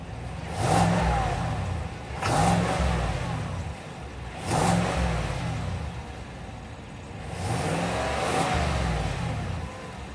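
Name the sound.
Chevrolet Silverado 6.2 V8 engine revving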